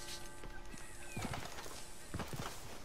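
Horse hooves clip-clop in Red Dead Redemption 2, two short bursts of hoofbeats at a walking pace, moderately close, over a soft ambient bed with a faint tonal hum.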